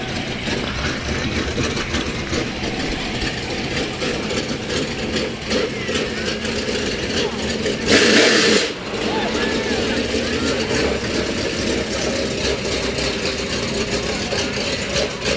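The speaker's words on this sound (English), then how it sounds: "I hear a hot rod coming." A hot rod engine rumbles steadily at a moderate distance during a Christmas parade, with a brief louder surge midway, heard beneath ongoing talk.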